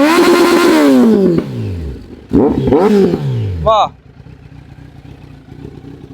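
A Kawasaki Z900 motorcycle fitted with an Arrow exhaust blips its throttle in a few short revs, rising and falling loudly up close, with someone talking over and between the revs.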